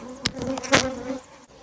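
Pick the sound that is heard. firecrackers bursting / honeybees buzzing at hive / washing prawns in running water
honeybees buzzing at hive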